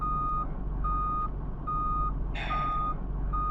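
Regular electronic beeps repeat at an even, slow pace after a failure in a video game, sounding over a steady low hum, with a brief noisy burst midway and no speech.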